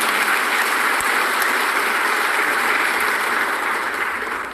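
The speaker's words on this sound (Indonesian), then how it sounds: "tepuk tangan untuk teman-teman" A rally crowd of volunteers claps for a political speaker, a thick continuous wash of applause filling the space and tapering off slightly at the end.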